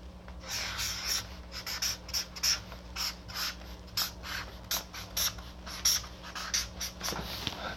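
A pen writing on paper, a close series of short scratchy strokes in an uneven rhythm, quiet with a low steady hum underneath.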